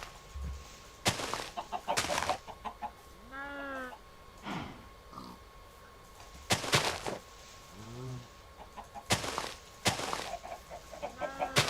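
Chickens clucking in the Minecraft video game, several short pitched clucks in separate bursts, mixed with clicks and other game sounds, fairly faint overall.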